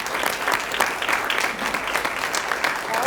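An audience at a county commissioners meeting claps steadily, a dense, even round of applause from many hands filling the room.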